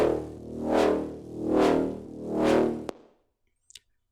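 Three slow swelling swooshes from Lifeforms, each rising and falling in a smooth rhythmic wave, followed by a sharp click, silence and a brief faint tick.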